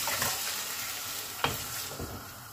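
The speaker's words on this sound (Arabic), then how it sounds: "كل ما بحط شغلة بعملها تقليبتين" A spoon stirs chicken broth ingredients with a green pepper as they fry in a pot, giving a steady, close sizzle with a few soft scraping strokes and no voices.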